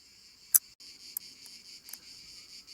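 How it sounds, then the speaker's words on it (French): Cicadas on the Atlantic coast near the Pointe des Quinconces at Andernos-les-Bains make a continuous high-pitched buzzing drone, with a few brief sharp clicks standing out above it, moderately loud and without talk. "Quand je dis les criquets, non, les cigales."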